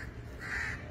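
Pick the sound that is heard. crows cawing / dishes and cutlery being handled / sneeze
crows cawing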